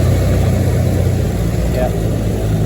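A 107-year-old car's engine drones loud and close in neutral as the throttle comes down, a steady low rumble under continuous talking.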